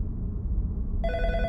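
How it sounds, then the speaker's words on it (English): A telephone rings in the horror video game In Sound Mind, a bright electronic ring that starts partway through over a low, steady background rumble, close and clear. "The phone will keep ringing, so I will pick it up once it finishes."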